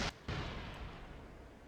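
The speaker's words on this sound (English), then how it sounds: "Mercury capsule exploded due to overheating" A Mercury capsule blowing up from overheating in a space-program video game: one sharp booming blast with a brief crack and a short rumbling decay, heard alone.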